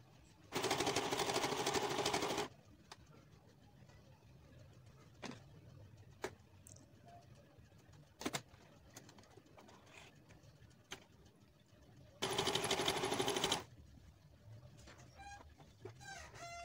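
A sewing machine stitches hijab fabric in two loud, steady whirring runs separated by a quiet stretch with a few clicks and handling knocks.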